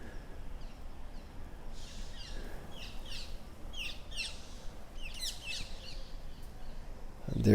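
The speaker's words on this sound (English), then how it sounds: "And there the birds are singing happily." Birds sing and chirp outdoors at daybreak, a scatter of bright tweets and short calls repeating over a steady low background rumble, moderately distant throughout.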